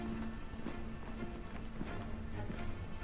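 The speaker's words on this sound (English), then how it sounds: "I hear footsteps." Steady, rhythmic footsteps in the video game Detroit: Become Human, evenly spaced soft thuds over a constant hissing ambience.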